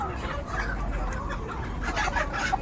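Native country chickens on a poultry farm cluck and chatter continuously, several birds close by in a busy, overlapping flock.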